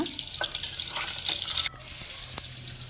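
Steady sizzle of food frying in hot oil, a constant hiss with a few faint clinks, close up and without speech.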